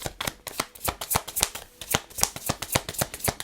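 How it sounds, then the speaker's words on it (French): A deck of cards riffles and flicks in quick, evenly spaced crisp snaps as a card is drawn from the shuffled deck, close and steady throughout with no speech. "Je vais prendre une dernière carte."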